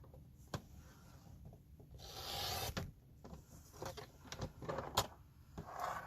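Paper being trimmed by hand for a rubber-stamping card craft gives soft rubbing and rasping scrapes with a few sharp ticks, close and quiet, with a brighter swishing stretch midway.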